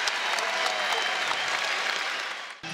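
Basketball crowd at a Central Michigan versus Miami college game cheering and applauding loudly and steadily, a dense roar that fills the arena and dips briefly near the end.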